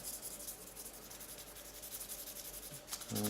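Fine 300 grit paper rubs against a brass belt fitting in quiet, continuous soft scratchy strokes, close up and faint, with a slight knock near the end.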